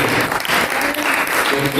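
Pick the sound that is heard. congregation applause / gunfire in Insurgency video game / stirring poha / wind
congregation applause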